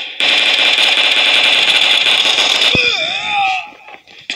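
Loud, dense automatic gunfire in a PUBG Mobile team deathmatch, a continuous rapid burst that cuts off abruptly, followed by whooshing effects and a falling tone as the round ends.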